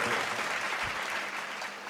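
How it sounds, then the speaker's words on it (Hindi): Audience applause at a Hindi poetry recital (kavi sammelan) in Barabanki, a brief burst of many hands clapping at a soft, distant level. "2-3 लोग ताली बजा दीजिए"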